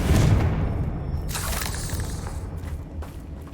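An explosive Confringo spell in the Hogwarts Legacy video game booms heavily at the start, then a softer burst with crackling debris follows around one and a half seconds before the sound thins out, with no talking.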